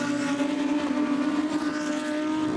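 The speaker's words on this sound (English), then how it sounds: "Audi of Sheldon van der Linde coming into the picture now" Sheldon van der Linde's Audi GT race car at Oschersleben in the GT Masters, a loud, high-revving engine howl with strong tonal harmonics, held steady as the car passes close on track.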